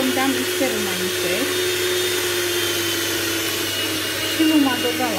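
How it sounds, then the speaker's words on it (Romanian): An electric hand mixer whirs steadily at a constant pitch, close and fairly loud, beating oil into a batter for an apple cake, with a voice talking over it. "Acum vom da mixer înainte"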